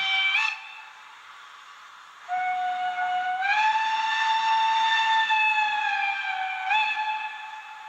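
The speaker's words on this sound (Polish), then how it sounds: "sygnał odjazdu pociągu gwizdek" A model train departure whistle for a Roco 72063 Ty2-911 steam locomotive blows with a hissy, multi-tone shriek, briefly stopping then resuming long and loud, with a short final blast near the end.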